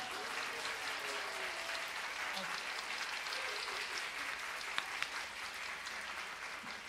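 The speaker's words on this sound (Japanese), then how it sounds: "皆さん大きな拍手を。" Audience applause at a live stage show in a Shibuya club: a steady, continuous wash of clapping from a large crowd that lasts throughout.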